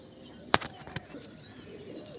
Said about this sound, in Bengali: পিওরিটি কাঁচিপিলি আঁকের পায়রা, দেখতে পাচ্ছেন ফুল গ্যারান্টিড পায়রা উড়ানে